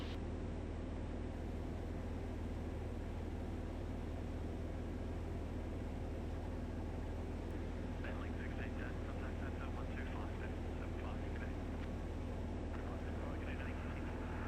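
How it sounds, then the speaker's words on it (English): Steady droning engine noise of a Vans RV-6A light plane in flight, a constant loud rumble filling the background. "just managing the aeroplane while I'm flying"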